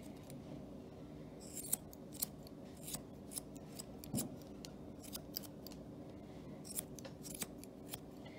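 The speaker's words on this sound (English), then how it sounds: "We take our scissors again." Scissors snip the fur on an English Springer Spaniel's foot in quick, light, irregular cuts, close but faint against a quiet room, with no talking.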